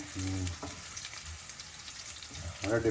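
Green chillies fry in a pan with a steady, faint sizzle, while a voice talks briefly at the start and again near the end.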